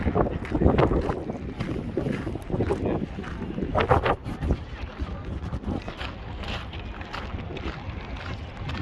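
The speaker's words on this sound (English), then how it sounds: "it gets a little bit windy because it's an open place here next to the ocean" Steady wind buffeting the microphone outdoors in an open spot next to the ocean in Lisbon, with a constant rushing roar and gusty bursts, no voices.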